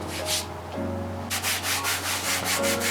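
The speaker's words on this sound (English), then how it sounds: "I'll give it a quick sand just so the paint can bite into something" Plastic exterior trim on a Toyota Corolla G6 being hand-sanded to give paint something to grip, producing a steady rhythmic scratching of back-and-forth strokes that grows louder and quicker partway through, close and with no talking.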